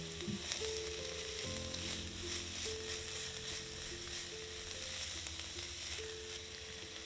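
Garlic, dried thyme and dried oregano sizzle and fry with vegetables in a pot for a lentil vegetable stew, a steady close hiss with a low hum beneath and no talking.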